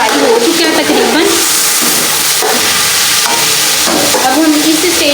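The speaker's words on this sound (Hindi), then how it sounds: "अब हम चिकन को फ्राई होने देंगे।" Chicken frying in a karahi, dhaba style, sizzles loudly and continuously while it is stirred with repeated scraping strokes, close and dense, with a voice faintly present underneath.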